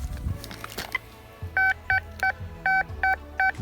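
A Quest Q20 metal detector in coin mode answers a target with a series of about seven short, regular electronic beeps, close and loud, following a few fainter scraping knocks.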